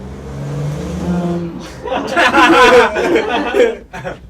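A voice imitates a roaring car engine, starting with a low rising drone and breaking into a loud, rough revving burst before trailing off.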